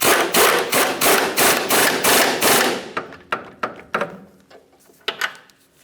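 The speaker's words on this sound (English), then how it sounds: "We'll hold the bolt head and tighten the nut." A ratchet wrench tightens the nut on a lower control arm mounting bolt of a 1999-2006 Chevrolet Silverado, a rapid run of close, loud clicks followed by several slower, separate clicks.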